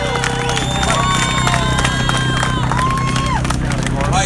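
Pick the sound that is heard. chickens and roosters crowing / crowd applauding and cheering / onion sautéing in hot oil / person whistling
crowd applauding and cheering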